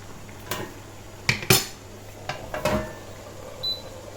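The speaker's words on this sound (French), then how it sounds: "Je vais réduire le feu et je vais couvrir." A lid set onto a cooking pot on a home stove, with a few sharp metallic clanks and clinks close by, then a short settling rattle, in a quiet kitchen.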